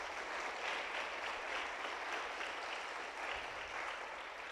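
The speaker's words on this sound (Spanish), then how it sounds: "Dele palmas a Jesús." A church congregation at an Easter Sunday service claps together in sustained, even applause that stays faint and steady, with no talk over it.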